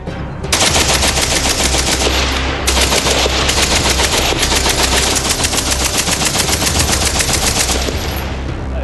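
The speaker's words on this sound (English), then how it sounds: "the usual reaction of a soldier when using a Vickers gun" Sustained automatic fire from a Vickers machine gun, a loud, dense, continuous rattle of rapid shots lasting several seconds with a brief break partway through, close and dominant with no talk.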